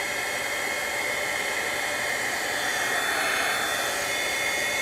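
A heat tool blows a steady, loud, even rush of hot air while warming a warped plastic die-cutting plate. The whooshing roar holds constant throughout with no talking.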